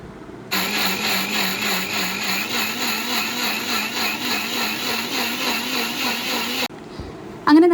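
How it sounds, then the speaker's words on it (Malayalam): Kitchen mixer grinder blending soaked raw rice with a little water into batter for cooker appam, a loud steady motor whir with rhythmic churning that runs continuously for about six seconds, then stops abruptly. "അതിനുശേഷം നമുക്കിത് ഒന്ന് നന്നായിട്ട് അരച്ചെടുക്കാം."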